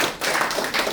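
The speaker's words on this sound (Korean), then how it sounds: "이때 박수 한번 쳐주세요" A short burst of audience applause rises at a community council gathering, a dense patter of many hands clapping at once.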